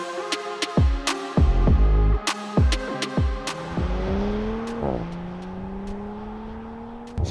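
A 2019 Audi RS4 Avant B9 with a 2.9 V6 accelerating hard. The engine revs climb loudly and close through several sharp upshifts, then settle into a rising, sustained pull.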